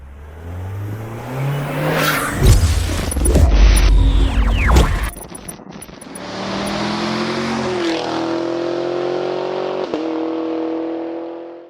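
A 2022 Mazda CX-9 all-wheel-drive three-row SUV out on the road, with loud engine and road noise that rises as it accelerates, then settles into a steady cruising drone and fades away at the end.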